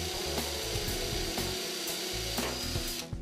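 Power drill pre-drilling holes into composite decking boards during terrace installation, a steady close whirring with repeated sharp bursts as the bit bites, no voices.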